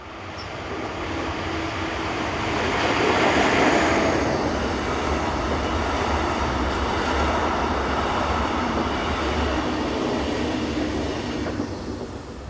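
Postal train 421388 passes near a large sorting centre at Hachingen with a steady, moderately loud rolling roar. The rumble of wheels and cars swells in the middle and fades slightly toward the end, with no voices.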